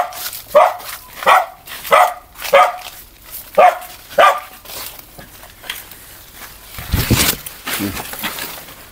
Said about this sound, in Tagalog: Aso ng tumatahol.